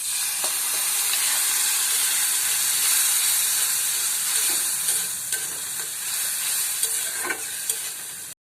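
Spice mix frying in a pan for dal khichuri, a steady loud sizzle and hiss with intermittent scraping stir strokes, close and continuous without speech.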